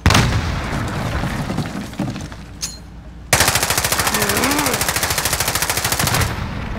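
Video game gunfire: a rapid automatic burst, a brief pause with a single shot, then a long, loud, even machine-gun stream, close and dominant.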